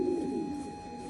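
Pigeons giving a short, soft cooing call, a single low throaty coo heard close and faint in a quiet setting with no talk.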